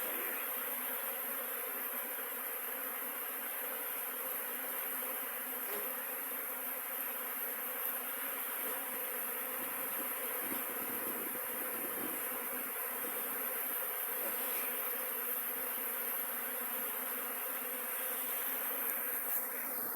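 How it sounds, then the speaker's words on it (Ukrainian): Buckfast honey bees on an orientation flight at an apiary buzz continuously in a dense, steady swarm drone that stays close and even throughout, with no talking. "Це теж бакфаст обльотується."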